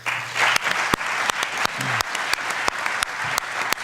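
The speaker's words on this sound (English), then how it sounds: "a quick round of applause for the Lester Center and Kirsten for putting on this event tonigh" An audience at an entrepreneurship evening event applauds, a room of clapping hands with a few sharp, loud nearby claps standing out over the steady patter.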